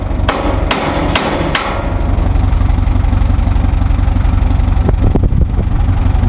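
Four sharp metal hammer blows ring out close by during repair work on a Fortschritt T-088 manure spreader, over a constant low engine idle, with a couple of fainter knocks later.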